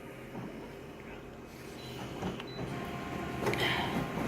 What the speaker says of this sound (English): The document feeder just went off for some reason, made a funny noise